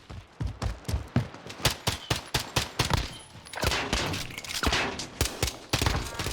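Rapid gunfire from an online shooter match, dense bursts of shots crackling one after another for the whole stretch, loud and close with steady sustained firing in the middle.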